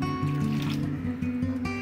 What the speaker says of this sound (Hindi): थोड़ा थोड़ा पानी ऐड करके फिर हम इसे गूंदेंगे।